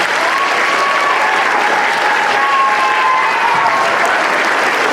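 Sustained applause from a school assembly crowd at a middle school, clapping for a student named Davis; dense, steady and loud throughout, with a few faint whistles or cheers rising above the clapping.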